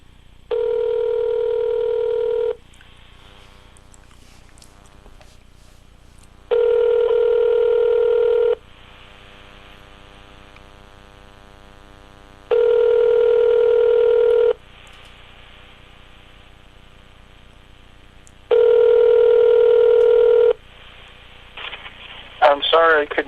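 An outgoing telephone call rings four times, each ring a steady two-second tone separated by pauses of about four seconds, until a voicemail greeting starts to play at the end.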